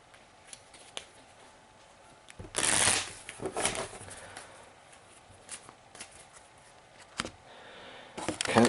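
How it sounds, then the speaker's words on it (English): A deck of cards for the cooperative card game Sentinels of the Multiverse is shuffled in a few short, soft riffling bursts, with quiet pauses between them and faint handling noises. "shuffle this card and your trash into your deck"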